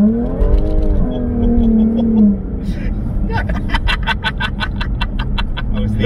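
A Jaguar F-Type 400 Sport accelerates to overtake on the road. The engine note rises under a voice, then gives way to a run of regular, sharp pulses while cabin noise continues.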